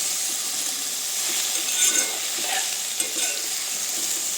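Okra pieces being stir-fried dry in a pan for an egg dish, giving a bright, close sizzle with scraping stirs and an occasional light clink, steady throughout, no one speaking.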